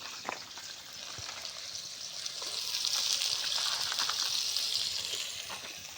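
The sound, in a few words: onions frying for biryani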